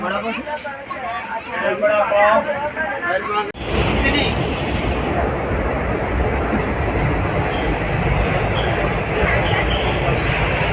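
A train pulling into Ratnagiri station on the Konkan to Mumbai route grinds along with a steady rumble and a high wheel squeal, loud and close. People talk over the start, and the squeal sustains to the end.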